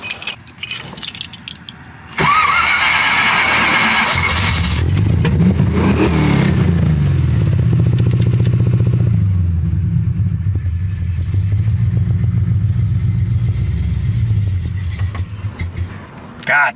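A carbureted-to-EFI converted AMX engine starts up and idles roughly, its low rumble dipping and surging unevenly before cutting out near the end, loud and close after an opening clatter.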